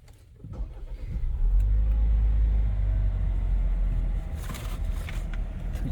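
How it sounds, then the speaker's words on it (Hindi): A 2024 MG RX8 SUV engine cranks and catches, settling into a loud, steady low rumble at idle that holds close up to the end. "अच्छा, अब गाड़ी को स्टार्ट करते हैं।"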